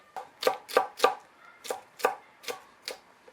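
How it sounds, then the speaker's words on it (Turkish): A knife chops peppers on a cutting board in eight crisp, evenly spaced strokes, close and clear with quiet pauses between. "Biberleri de yine aynı şekilde böyle küçük parçalar şeklinde doğrayacağım."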